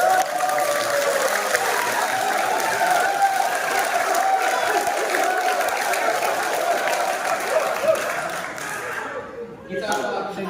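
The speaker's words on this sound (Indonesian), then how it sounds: "Mari kita berikan aplaus yang meriah" An audience applauds at a televised second debate between candidate pairs, a steady, dense wash of clapping that holds loud for about nine seconds before thinning out near the end.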